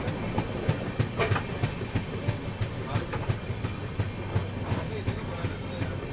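A local train rumbles through a railway workshop in Kolkata with a steady clickety-clack of wheels over rail joints, a low mechanical drone underneath and faint voices in the background.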